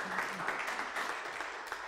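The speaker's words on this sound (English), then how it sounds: "Can we just give God a clap of praise for that?" Church congregation applauding during a Sunday service, a short burst of many hands clapping at moderate distance, with a voice faintly heard underneath.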